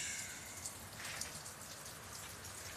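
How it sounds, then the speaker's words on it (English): Rain falls outside, a soft, steady patter of drops on surfaces with scattered brighter splashes, fairly quiet and continuous with no voices. "we're rocking with rain today"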